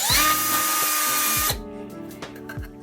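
A power sander works a trim piece, loud and steady with a hard grinding whine for about a second and a half, then cuts off, leaving quieter scraping handling noises and a few thumps.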